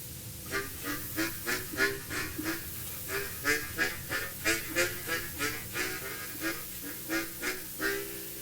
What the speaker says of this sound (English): bass harmonica